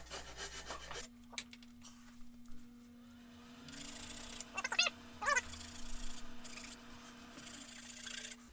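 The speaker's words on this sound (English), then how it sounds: "I'm just gonna roughly touch it with the rasp side" A wood rasp scrapes roughly over a custom recurve archery bow grip, giving a few faint, short rubbing strokes in the middle of a quiet stretch over a steady low hum.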